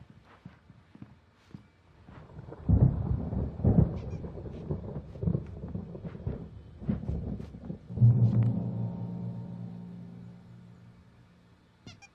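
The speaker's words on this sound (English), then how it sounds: "There's a storm coming. Oh, what a storm." Thunder rumbles through a storm in the video game Alan Wake Remastered, with loud low booms around three and eight seconds that roll off slowly into a fading tail.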